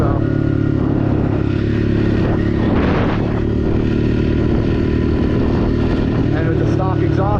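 A Honda CRF 125F dirt bike on its stock exhaust runs steadily while being ridden, a loud, even engine drone lugging in gear, with a voice talking over it.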